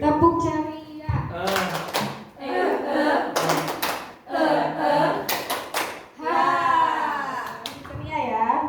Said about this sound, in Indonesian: Tepuk jari ya.